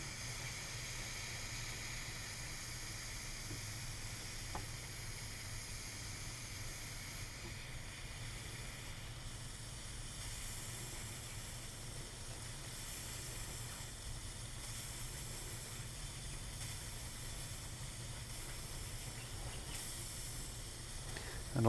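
A steady, soft hiss of steam from a wet towel pressed on a guitar's wooden fingerboard runs continuously at close range, unbroken and even, with no voices.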